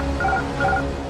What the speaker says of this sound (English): The alarm warns the crew that the autopilot has shut down and handed control back to them